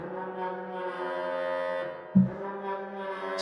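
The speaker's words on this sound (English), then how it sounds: "Foghorn where the skulls come up and dance." A low, sustained foghorn blast from a Halloween music instrument, eerie and tonal, holds steadily for a few seconds with a brief thump partway through.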